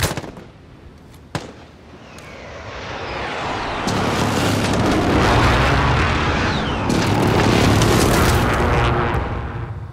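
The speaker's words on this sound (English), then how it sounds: "Enemy precision airstrike." An enemy precision airstrike in the Call of Duty video game sets off a sharp early crack, then a swelling roar of heavy explosions that rumble on loudly and continuously, with a fresh burst of blasts late on.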